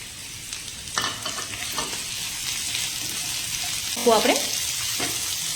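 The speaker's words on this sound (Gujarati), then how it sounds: "હવે આપણે ડુંગળી ઉમેરી દઈશું." Onions sauté over a full, high flame for street-style chilli paneer, giving a steady sizzle with scraping stirs and a louder burst of frying near the end, while a voice briefly speaks.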